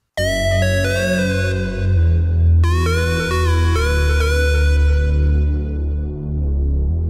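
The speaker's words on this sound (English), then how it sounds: "when your synth sound is completed, it should sound something like this" A thick, distorted synth bass pad made in Reason, with a heavy, buzzing low end, holds sustained chords that shift once partway through, loud and continuous.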